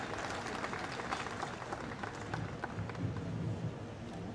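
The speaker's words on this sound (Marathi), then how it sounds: "त्या उन्हात बसलेल्या लोकांसाठी टाळ्या वाजवा" Spectators at an open-air event for the launch of electric state-transport buses in Maharashtra, some seated in the hot sun, clap in a steady, moderately loud round of applause with no voices over it.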